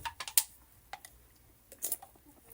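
Clicking on a computer keyboard or mouse, a handful of light, sparse clicks in short bursts, close and quiet with gaps between them.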